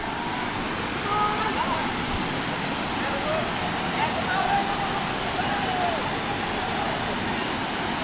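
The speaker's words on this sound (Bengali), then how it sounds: "এটাই হইলো সেই ঐতিহাসিক রূপসী ঝর্ণা" Ruposhi waterfall at Sitakunda pours in a steady, broad rushing roar, constant and fairly loud, with no break across the stretch.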